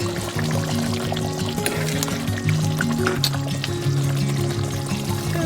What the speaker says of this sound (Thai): น้ำข้นอ่ะใส่น้ำนิดหน่อย